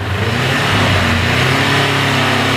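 Close, loud revving of a 2022 Honda Rebel 500 motorcycle engine on its stock exhaust, rising and falling quickly in pitch and heard alone without talk.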